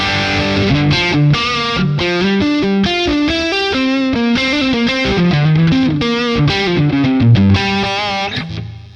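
Electric guitar through a Boss Katana amp on its default first channel, playing a quick, busy melodic riff with a thick, slightly driven tone and effects, loud and close with no talking.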